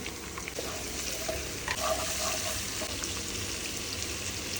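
Onions and green chilies sautéing in hot oil for a bitter gourd dish, a steady close sizzle with occasional stirring scrapes, no talking.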